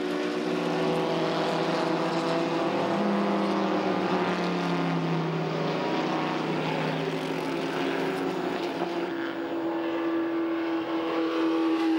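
Ford GT40 race cars, including the rare open Can-Am prototype, roar past on a racing circuit, a loud sustained engine drone with rising and falling pitch continuing steadily throughout.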